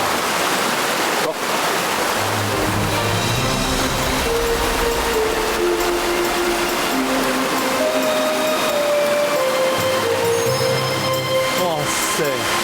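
Steady rushing water pours continuously from a small waterfall at a mountain home, a loud unbroken wash with voices speaking over it.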